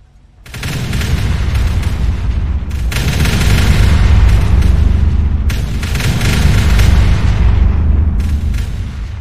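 Artillery shells exploding in Factorio, a dense, loud barrage of rumbling booms that runs almost without a break, with a few sharper bursts standing out from the steady roar.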